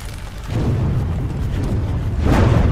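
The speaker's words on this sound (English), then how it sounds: "Oh, I blew myself up." A rumbling explosion in the naval video game Windward, a low, sustained boom that swells and keeps roaring for a few seconds with no talk over it.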